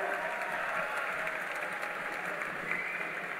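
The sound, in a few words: audience applause at political event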